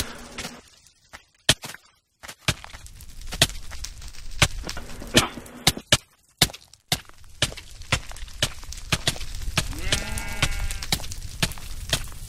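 A sheep bleats in the Minecraft sky block game, a short wavering call near the end that rises over a busy, steady background of game noise and sharp clicks and thumps.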